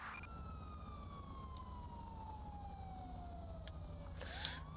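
A police car siren in the video game GTA V with the LSPDFR mod wails steadily with a slowly falling pitch over a low engine rumble, ending in a brief harsher electronic burst near the end.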